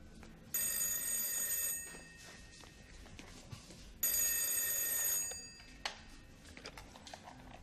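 An old-style electromechanical telephone bell rings in two long bursts with a pause between, loud and close, with faint room noise in the gaps.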